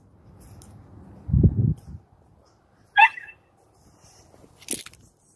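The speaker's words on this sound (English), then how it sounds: "My dogs are barking. They want to come outside and chase the turkeys." Dogs shut indoors bark to get out and chase turkeys, heard as a few muffled, separate bursts from a distance inside a mostly quiet yard.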